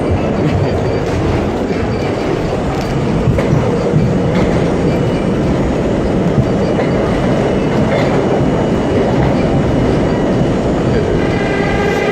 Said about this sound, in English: the R-32 that I'm on right now is still in league with anything that's on the track